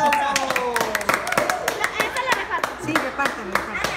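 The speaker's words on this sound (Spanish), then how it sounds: "A ver, un aplauso." Guests clap at a tenth birthday celebration, a near, lively patter of many hands running throughout, with people talking and calling out over the clapping.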